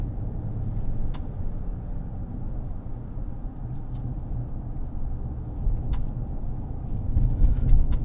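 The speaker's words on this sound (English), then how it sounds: "Plenty of low-end torque from this twin-turbo 6-cylinder." Steady low road rumble of a 2023 Jeep Wagoneer Series II Carbide with a twin-turbo six-cylinder engine, cruising on a rough back road, with tire and engine drone filling the low end throughout and no talking.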